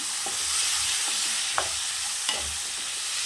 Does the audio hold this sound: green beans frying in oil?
yes